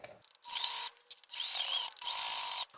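A domestic sewing machine stitches fabric in three short whirring bursts with brief pauses between them, near and clear, with no talk.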